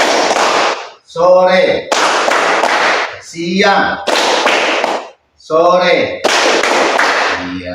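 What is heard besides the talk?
children clapping hands in a classroom clapping chant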